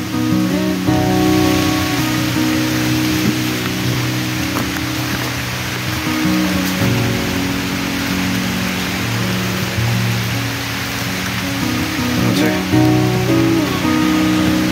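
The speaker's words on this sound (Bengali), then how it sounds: "আর তার মধ্যে ভালো বৃষ্টি চলে এসছে।" Steady monsoon rain pours over Ajodhya Hill as a dense, continuous hiss that fills the whole clip, with a low droning hum running underneath and no voices.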